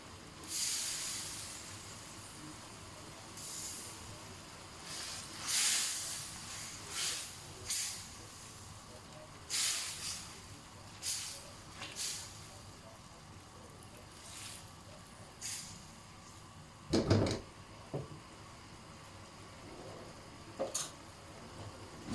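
Tomatoes tipped into a hot pan of Thai-style crispy pork give a steady, close sizzle and hiss, broken by occasional louder spits and clatters of stirring.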